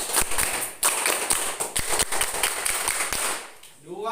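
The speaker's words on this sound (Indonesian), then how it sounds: "1 kali tepuk pramuka." A school class performs one round of the Indonesian scout clap, a patterned sequence of crisp group claps with short pauses between beats, ending as a voice starts speaking.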